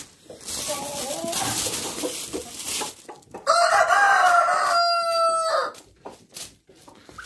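Hens cluck nearby in a farmyard flock, then a rooster lets out a loud, drawn-out crow lasting about two seconds, followed by a few quieter clucks.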